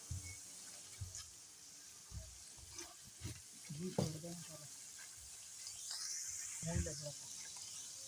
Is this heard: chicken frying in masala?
yes